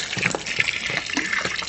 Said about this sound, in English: Time to throw in a bit of water and get mixing.